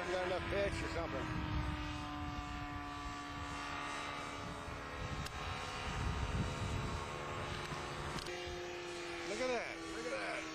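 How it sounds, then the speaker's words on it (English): A powered parachute's propeller engine drones steadily overhead with a sustained high-revving whine and some rising and falling pitch, while people nearby talk over it. "He's over revving it, is what he's doing."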